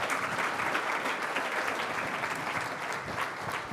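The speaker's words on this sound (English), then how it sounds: "I'd like a big round of applause, please, for Senator Hagerty" A conference audience at a technology summit claps steadily for a senator, with dense, sustained applause that stays even and loud throughout.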